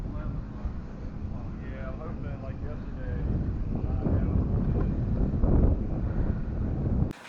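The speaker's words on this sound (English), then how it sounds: "there's a lot of wind today" Strong wind blows across an open fly-in field with RVs parked around it, roaring and buffeting the microphone near the mic. The gusts build toward the end, and voices are faintly mixed in.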